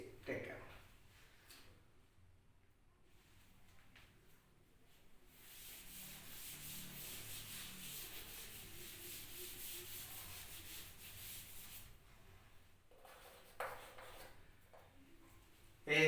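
A duster rubbing chalk off a classroom board, a long, soft, steady scrubbing sweep lasting several seconds, with a voice heard faintly around it.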